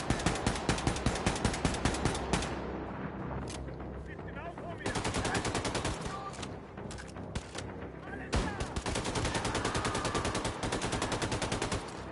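Enemy automatic gunfire in Wolfenstein II: The New Colossus, long rapid bursts of machine-gun shots broken by brief pauses, loud and close, with a voice talking faintly under the shooting.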